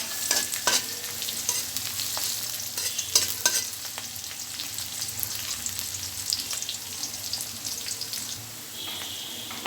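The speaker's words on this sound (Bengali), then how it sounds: "এখানে এবার আমি দুটো পেঁয়াজ কুচি করে এটাকে হালকা লাল লাল করে" Chopped onions frying in a pan with repeated stirring, a steady close sizzle broken by scraping strokes of the spoon, with no talking.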